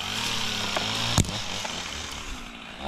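A chainsaw with an 18 inch bar cuts hemlock tree limbs, its engine droning steadily and loudly at close range, with one sharp crack partway through.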